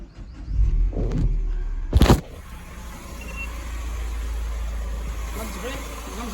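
A Citroen C3 car engine left idling, a steady low rumble running close by throughout, broken early by a few knocks and a sharp clunk.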